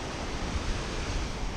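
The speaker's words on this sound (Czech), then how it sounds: "Vlny tady nejsou takový, že oni jsou tamhle vzadu." Sea waves wash onto Mirissa beach in Sri Lanka, a steady close roar of surf mixed with wind rumble and no voices.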